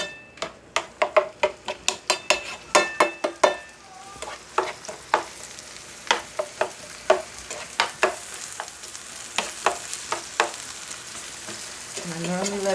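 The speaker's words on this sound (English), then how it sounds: "I normally let it saute for a moment." Peppers and vegetables sauteing in a pan, with a soft steady sizzle under clusters of sharp utensil clicks and taps against the pan, close by.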